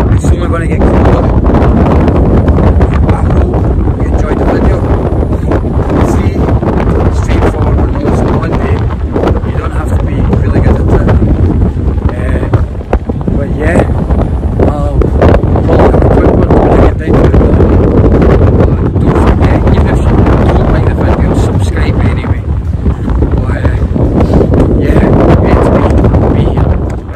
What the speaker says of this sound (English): It's a bit windy up here.